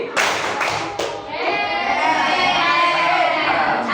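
A classroom of students plays the tepuk pagi clapping game, with a few sharp group claps followed by a burst of rhythmic clapping together. Children's voices chant faintly beneath.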